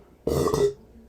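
A single loud, close burp lasting about half a second, rough and throaty, with no talking around it.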